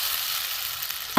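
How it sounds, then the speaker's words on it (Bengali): Spice paste of chili, cumin and coriander frying in a pan gives a steady, close hiss of sizzling oil, ending with a brief sharp clink of a utensil against the pan. "একটু কষিয়ে নেবো মশলাটা।"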